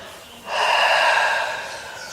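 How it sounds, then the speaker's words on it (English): Deep 'dragon breaths', a relaxation breathing exercise: one long, forceful exhalation through the mouth, breathy and close, starting after a brief quiet moment and fading gradually. "I want you to take 3 big dragon breaths over this picture that you're holding in front of you."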